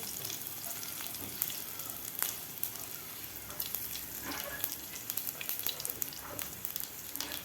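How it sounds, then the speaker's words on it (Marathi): Asafoetida fries in hot oil in a pan, a faint, steady sizzle with a few light crackles and occasional stirring clicks, quiet and unaccompanied by speech. "थोडासा हिंग घालायचा आपल्याला यामध्ये व्यवस्थित फ्राय झालेला आहे"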